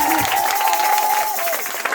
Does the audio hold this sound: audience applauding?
yes